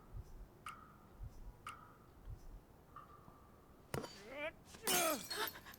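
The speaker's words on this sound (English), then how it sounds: "let's break the glass then" Glass shattering in the video game As Dusk Falls: a sharp crash followed by a second, louder burst of breaking shards near the end, after several faint ticking taps.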